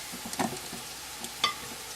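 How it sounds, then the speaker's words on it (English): Garlic and mushrooms sizzle faintly in a pan, a soft low crackle broken by a few quick stirring scrapes and one sharper clink near the end. "I smell that garlic cooking behind me"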